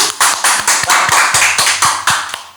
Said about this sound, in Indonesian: Tepuk tangan buat Wagler dong.